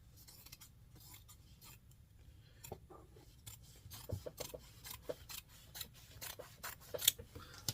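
Scrap material is snipped by hand in a quiet workshop, a string of faint, irregular cutting strokes that grow busier toward the end, with no talking.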